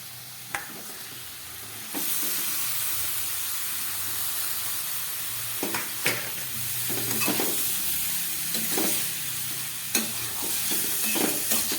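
Boiled green jackfruit sautéed with spice paste in a pan: a continuous close sizzle with hiss, broken by repeated spatula scrapes and stirring knocks.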